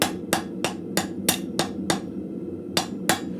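Steel rings under a steady hammer as an arrowhead is forged on the corner of an anvil in a blacksmith shop, about nine sharp, loud metallic strikes at an even rhythm with a short pause before the last two.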